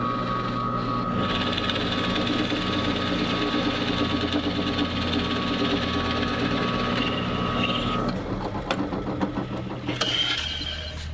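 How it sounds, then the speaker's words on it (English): A steady high-pitched drill whine runs continuously, with a grinding cutting tone beneath, then shifts and stutters near the end as a 5/8 inch Forstner bit changes load while drilling holes. "use a 5/8 inch Forstner bit to drill all of the holes that I just laid out"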